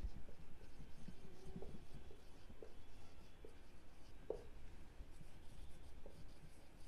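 A pen scratches across paper as an accounts entry is written, with soft continuous scribbling strokes close up under a steady background hiss and no talking.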